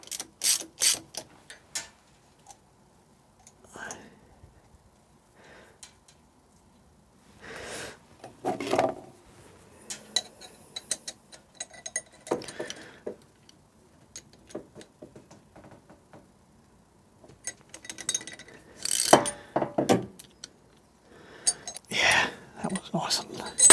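Wrench ratcheting as a double-nutted stud is wound out of an SU carburettor on a 1930s Riley 9, with irregular clicking metallic bursts near and moderately loud amid quieter pauses, with occasional soft voice.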